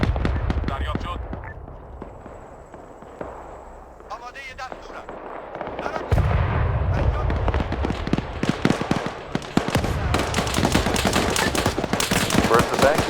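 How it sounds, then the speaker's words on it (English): Automatic cannon and machine-gun fire from a BMP armored vehicle in a military video game, with rapid bursts of shots and booms that grow denser and louder partway through, under scattered voice chatter. "I think the BMP is firing at it."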